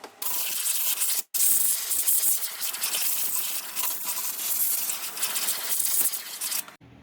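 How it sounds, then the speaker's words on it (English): An air compressor nozzle blasting loose dirt off the engine of a 2016 Ford F-150 with the 2.7L EcoBoost, a loud, close, steady hiss with one brief cutoff early on, ending abruptly near the close. "I'm going to use my air compressor and blow some of that loose dirt off"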